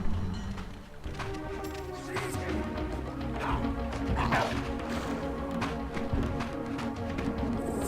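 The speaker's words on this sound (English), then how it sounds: "there's another dog" A dog barks in the video game Legacy of Kain: Soul Reaver 2, a few sharp barks set within a dense, busy game soundscape of music and effects, moderately loud with no clear gaps.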